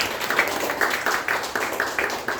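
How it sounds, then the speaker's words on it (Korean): A church congregation claps during a Sunday service to welcome newcomers, a rhythmic, moderately loud group applause with regular accented beats, almost in unison. "우리 박수로 환영해 주시기 바랍니다."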